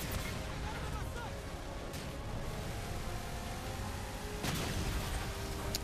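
Gunfire and heavy weapon blasts in Halo 4 on Legendary solo, at the Reclaimer level, sound as a dense, continuous roar of shots and booms, with sharper bursts standing out near the end.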